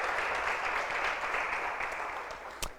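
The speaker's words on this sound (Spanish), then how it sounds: "¿Cuánto le podrían dar al Señor un aplauso?" A church congregation claps in praise, a brief, moderately loud burst of applause that tapers off with one sharp knock near the end.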